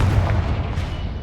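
A Confringo blasting spell detonating in the Hogwarts Legacy video game, a loud, booming burst that opens strongly and then rumbles away over about a second.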